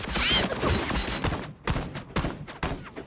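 Sniper gunfire in an animated show: a rapid volley of sharp, loud shots crackles in bursts over about three seconds, close and punchy with brief gaps between clusters.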